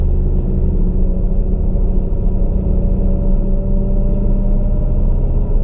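A 600+ HP turbocharged Camaro drives along at steady speed, its engine giving a continuous, loud low rumble with a constant drone and no clear revving bursts.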